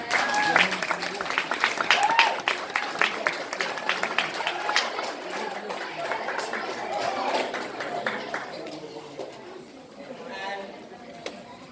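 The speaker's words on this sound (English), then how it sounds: "I am going to ask you to give them a clap" A crowd claps at a 2021 graduation ceremony, with sustained applause and scattered chatter and voices mixed in before it thins out toward the end.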